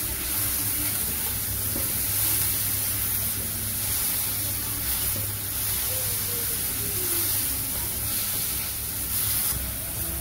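Tomatoes fry in a pan for a val bean pod dry bhaji, giving a steady, even sizzle and hiss that carries on without a break for about ten seconds, with no talking.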